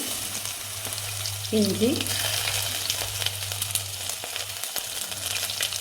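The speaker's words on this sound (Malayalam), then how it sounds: "നമ്മുടെ വെളിച്ചെണ്ണ ചൂടായിട്ടുണ്ട്. ഇനി കടുക് ഇടാം. കടുക് പൊട്ടിയ ശേഷം നമുക്ക് കുറച്ച് ഉലുവ ഇടാം" Mustard seeds, fenugreek and garlic frying in hot coconut oil, a steady close sizzle with faint crackles running throughout and a brief voice near the middle.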